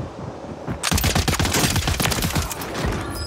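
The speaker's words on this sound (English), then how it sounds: "I heard gunshots behind me still" Video-game gunfire breaks out suddenly after a quiet second, then continues as a loud, rapid volley of overlapping automatic shots close by, lasting to the end.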